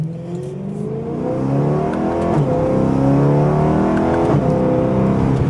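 A naturally aspirated V8 in a McLaren 600LT revs hard at a car gathering, the engine note climbing and falling in loud sweeping harmonics that build through the middle of the clip and stay strong to the end, with no talking.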